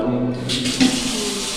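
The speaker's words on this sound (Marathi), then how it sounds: "हे पाणी उघडून बघ" Kitchen water tap in a flat running steadily as a continuous broadband wash, moderately loud and close, with a brief surge partway through and a faint voice underneath.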